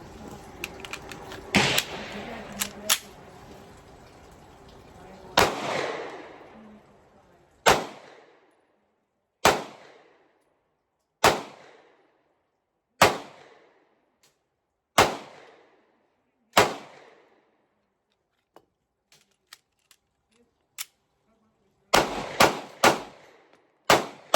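A SCCY CPX-1 9mm pistol fires at a shooting range. Sharp, loud shots ring out one at a time at steady intervals of about two seconds, then come faster in quick pairs and bursts near the end.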